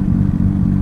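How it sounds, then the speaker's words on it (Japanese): A Nissan R32 GT-R with a loud muffler gives a short, steady, deep exhaust drone with a throbbing low rumble, close and heard alone. "あとマフラーすごい音してますね"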